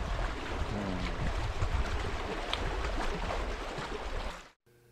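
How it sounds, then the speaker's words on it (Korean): Gentle waves lapping at a lake shore, a steady close wash of rushing water that cuts off abruptly near the end. "잔잔한 파도."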